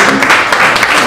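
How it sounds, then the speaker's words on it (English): Audience at a Jamaican music conference applauding, a short loud burst of dense clapping close by. "Would you please give Mr. Pat from VP Records a big round of applause?"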